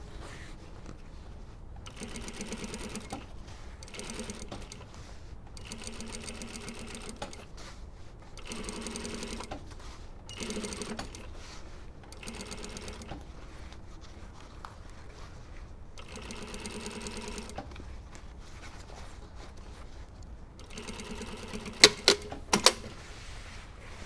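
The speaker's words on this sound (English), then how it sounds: "Now I'm going to just do some understitching, but just around the front neck." A sewing machine understitches the facing around a front neckline, running in close, steady bursts of rapid stitching with short pauses between runs, ending in a few sharp clicks.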